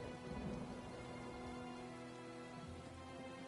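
Steady rain hisses down in the Elder Scrolls Online town of Elden Root, a continuous even wash of falling water with faint low rumbling beneath and no voices.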